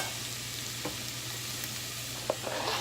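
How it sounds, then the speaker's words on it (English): Chopped garlic tossed into a pan of frying onions and carrots, giving a steady broadband sizzle with a few soft stirring knocks and scrapes near the end. "We're going to add in the garlic that we chopped up."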